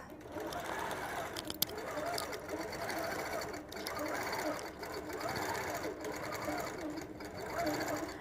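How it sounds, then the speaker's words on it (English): A sewing machine runs steadily while stitching along the sashing of a quilt, a continuous close whirring hum with a faint click near the start. "now the machine's going to do that sewing for me right there in that sashing"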